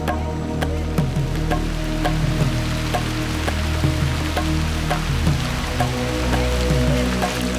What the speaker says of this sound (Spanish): Siguieron incluso bajo la lluvia intensa.